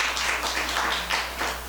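An audience at a Buddhist dharma talk applauds, a soft, continuous patter of many hands heard from a distance with gentle surges.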